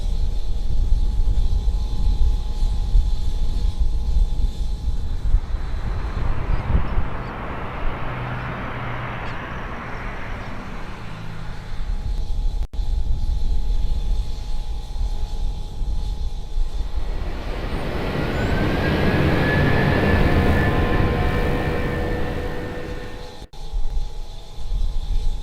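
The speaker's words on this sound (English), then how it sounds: "Air Force A330 MRTT, which it seemed like half of Perth showed up to have a look at" An Air Force Airbus A330 MRTT tanker jet at Perth roars past in two long swelling passes over a steady background rumble; no one talks.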